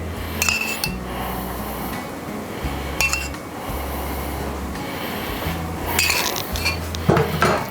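A spoon clinks against a dish while sweet vinegary sauce is spooned over smoked pulled pork, with a few scattered metallic taps over a low background hum.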